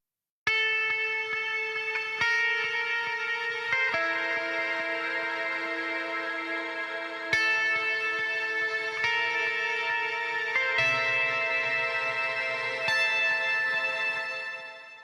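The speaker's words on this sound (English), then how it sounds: "This is fat type compression with soft distortion." Djent-style electric guitar riffing through fat compression, soft distortion and some saturation, with sustained chugging chords and sharp note changes played steadily and loud for the whole stretch, with no talking.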